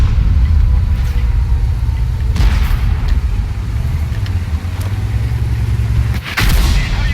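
M44 self-propelled artillery shells hitting tanks in the World of Tanks video game, a loud continuous low rumble with heavy booming impacts and a sharp crack near the end, no talking.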